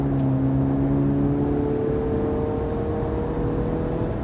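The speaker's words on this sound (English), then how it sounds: "I'm gonna get down into the throttle again." Range Rover Evoque engine accelerating under throttle, a smooth steady hum with a gently rising tone heard from inside the car, with no talking over it.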